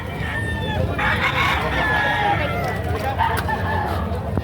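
Roosters crow and chickens cluck at a busy live poultry market in Padre Garcia, Batangas, with several birds calling across the space while people talk nearby.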